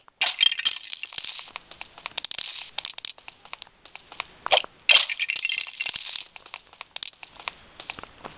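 Studs are collected in the Lego Batman DS video game's Ice Cream Factory level, giving rapid bursts of bright metallic coin-like clinks and rattles through thin handheld-console sound. They come in clusters, louder around the middle and just after.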